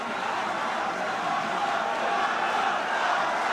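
Crowd at a Super Smash Bros. Melee tournament roaring and cheering, a dense, sustained wash of many voices filling the hall at a steady, fairly loud level.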